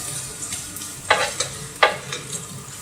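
Chopped ginger and garlic sauté in a pan for Kerala-style fried rice, a steady soft sizzle broken by two or three sharp spatula scrapes, with no voices.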